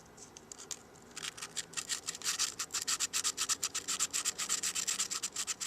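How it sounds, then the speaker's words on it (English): Fine grit sandpaper scours the ignition points of a vintage motorcycle in a rapid, even back-and-forth rhythm of close, soft rasping strokes after a brief quiet start. "Just take a little piece of fine grit sandpaper here."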